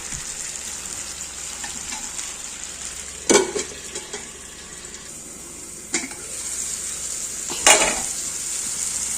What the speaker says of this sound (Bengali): পেঁয়াজ আর টমেটো ভালো করে ভাজা হয়ে গেছে